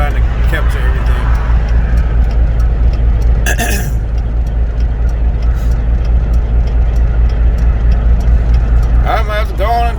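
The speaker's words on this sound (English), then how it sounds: "I might have to go on and turn my truck off." A truck engine idles with a steady low rumble throughout, heard up close, with brief voices near the start and end.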